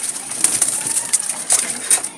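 Wild Jalali pigeons coo softly and repeatedly in short, throaty bursts, several birds close by in an uneven rhythm.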